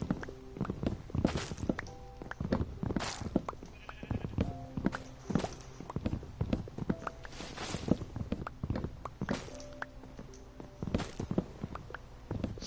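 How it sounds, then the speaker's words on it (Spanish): Horse hooves clop in a steady run of hollow thuds, with bleating sheep nearby and no speech. "Aquí está mi caballo."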